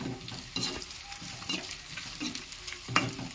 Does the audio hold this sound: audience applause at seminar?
no